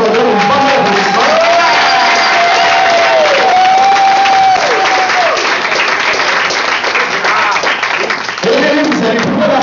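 An audience applauds at the OLIVE 2013 evening gala, steady clapping and a few cheers filling the room for nearly ten seconds under a sustained tone and background voices.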